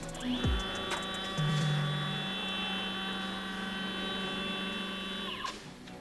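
Stepper motors driving a DIY CNC plasma cutter gantry along its X axis emit a steady high whine that ramps up, holds for several seconds and winds down, with a low hum and a few mechanical clicks at start and end.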